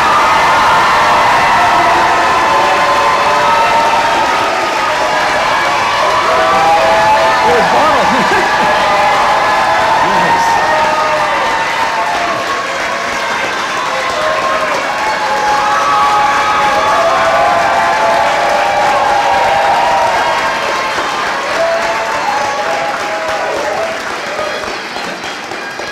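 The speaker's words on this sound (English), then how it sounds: "I think we'd all been dying for a little bit of hooping and hollering there for a minute" Graduating-class crowd at a community college high school equivalency ceremony erupts in loud cheering, hooting, whooping and applause, a sustained roar of many voices and clapping that swells and stays dense before easing slightly near the end.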